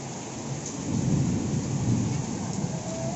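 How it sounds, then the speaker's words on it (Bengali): Heavy rain falls steadily, with deep rolling thunder swelling in low, loud rumbles over the constant hiss of the downpour, heard from nearby indoors or under cover. "কি জোর বৃষ্টি পড়ছে দেখুন।"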